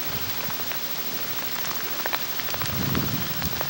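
Sleet falls outdoors with a faint, dense pattering and ticking that stays steady throughout, growing slightly heavier toward the end.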